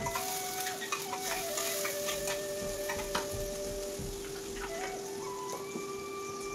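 Drumsticks and tomatoes cooking in a pan with a turmeric, ginger, garlic and coconut paste for sambar, a soft steady sizzle and bubbling with faint clicks and a sustained whistling tone in the background, no talking.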